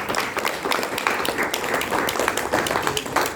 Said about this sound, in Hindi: हम थोड़ा ताली बजाकर स्वागत करें।